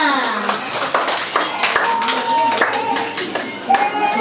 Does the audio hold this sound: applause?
yes